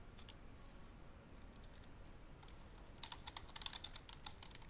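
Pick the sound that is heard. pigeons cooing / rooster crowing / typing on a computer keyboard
typing on a computer keyboard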